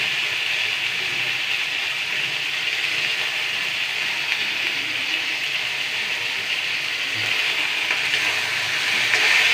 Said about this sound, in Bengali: এবার পেঁয়াজ দিচ্ছি, পেঁয়াজ দিয়ে আবার তেল ছাড়া ভাজা হলে